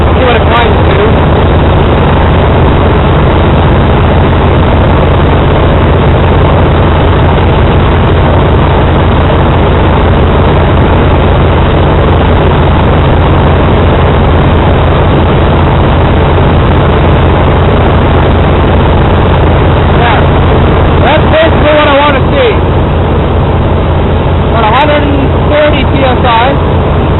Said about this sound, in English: Pick the compressor back on, and you can hear the engine cut down again.